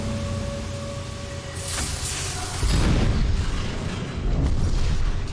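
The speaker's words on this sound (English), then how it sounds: "Boiler explosions, really?" Boiler explosion aboard the Titanic in a video game: a loud, deep, rumbling blast that swells into a sustained roar, with a second surge near the end, heard alone without talk.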